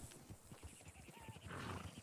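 Horse hooves clip-clopping in a video game horse race, a quick steady rhythm of soft thuds under faint background sound and distant voices.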